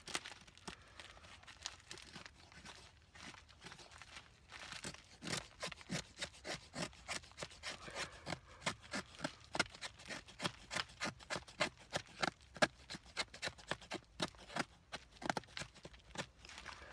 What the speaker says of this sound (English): So now I'm just going to get some shavings going.